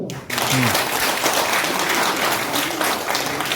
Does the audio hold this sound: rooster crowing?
no